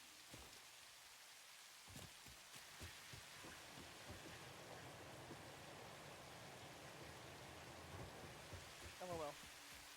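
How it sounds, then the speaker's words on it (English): Rain and thunder in the video game Satisfactory pour as a dense, steady downpour hiss throughout, with low rumbles and sharper cracks scattered across it, fairly faint and without any talking. "It is really raining."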